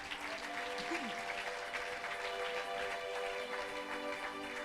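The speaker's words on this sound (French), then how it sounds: "Acclamons le Seigneur." Church congregation applauding and cheering in praise of the Lord during a service, a steady dense wash of clapping throughout, with a sustained tone running underneath.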